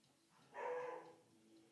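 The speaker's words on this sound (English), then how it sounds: "Sorry if you can hear the dog barking." A single muffled dog bark lasting about half a second rings out in a quiet room, followed by faint background hum.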